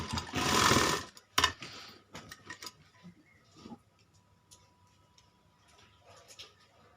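A sewing machine stitching a child's kalidar kurta, a short loud burst of whirring stitching near the start, followed by a second brief run and then scattered quiet clicks of handling.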